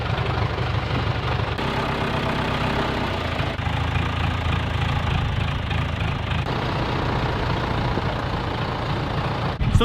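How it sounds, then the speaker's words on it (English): A tractor engine, used for unloading a truck, runs steadily throughout at a loud, close idle with a low rumbling knock and small shifts in tone, with no talk over it. "So I really hope that I can get the tractor starting."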